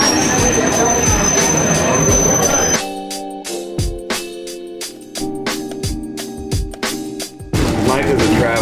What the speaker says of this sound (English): Here we are in the Underground.